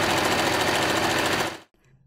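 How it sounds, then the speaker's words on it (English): A sewing machine runs a regular stitch along folded cotton fabric for a headband, a loud steady mechanical whir that holds for about a second and a half, then cuts off abruptly into near silence. "Fold the fabric in half and sew along the fabric with regular stitch."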